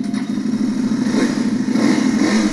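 A 250cc Italian motorcycle on a used bike dealer's lot in Delhi runs loud and close, its engine holding a steady, throbbing note throughout.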